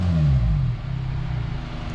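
A car engine revs and then settles, the driver a first-timer learning a manual stick shift on a car fitted with a used long-tube J-pipe exhaust, heard loud and close with an uneven, lurching rumble.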